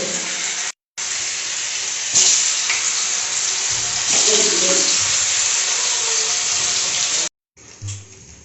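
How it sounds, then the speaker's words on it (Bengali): Paneer pieces fry in hot oil with a loud, continuous sizzle and crackle, interrupted by short gaps and joined by occasional stirring clatter. "পনিরগুলো ভেজে নেবো।"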